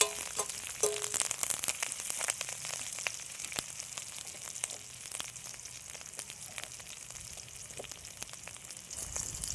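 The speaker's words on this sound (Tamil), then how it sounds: "இப்படியே வதங்கிட்டு இருக்கட்டும் ஒரு ரெண்டு நிமிஷம் இப்படியே வதக்கலாம்" Curry leaves sauté in hot oil in a pan for a dry red chilli duck curry, giving a steady close sizzle and crackle with occasional stirring scrapes and no talk.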